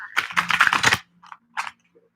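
Tarot cards being reshuffled during a live reading: a quick, close burst of rapid crisp card flutters lasting about a second, a short pause, then a brief second riffle, with no talking.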